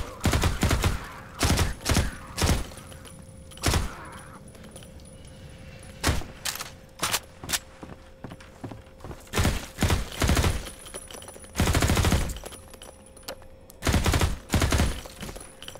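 Rapid bursts of gunfire from Half-Life 2 MMod come in clustered volleys separated by short gaps, loud and close, with occasional single shots.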